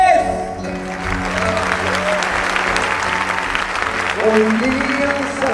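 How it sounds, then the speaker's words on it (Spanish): Audience applause fills the space after a Colombian folk dance performance at an international folklore festival closing, steady dense clapping with crowd noise and a voice speaking over it. "El aplauso es para ustedes."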